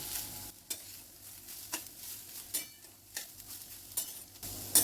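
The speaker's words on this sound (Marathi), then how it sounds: "आपण बारीक गॅसवरच परतून घेतोय आपलं बीट" Grated beetroot sautéing in ghee in a wok over a very low flame, giving a soft steady sizzle broken by several short scraping stirs, close and fairly quiet with no talking.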